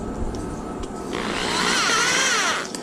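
A power drill starts driving a screw into a wooden dowel for a bank-fishing rod holder, its motor whine rising in pitch for about a second and a half, loud and close, with no talk over it.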